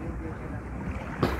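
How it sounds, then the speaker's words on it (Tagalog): Steady wind and water noise on the seaside along Roxas, Manila Bay, a continuous close rush with buffeting on the microphone and a brief louder gust near the end. "dito tayo sa tabi ng dagat."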